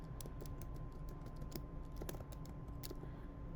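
Rapid, irregular keystrokes on a computer keyboard typing random text in InDesign, close and clear against a steady low room hum, with no voices.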